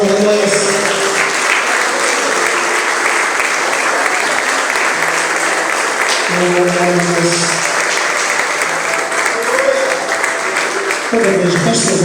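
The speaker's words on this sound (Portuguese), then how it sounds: "Quantos querem acender uma salva de palmas para o Senhor" A church congregation gives continuous, full applause in praise to the Lord, with a preacher's voice and sustained musical tones running over the clapping throughout.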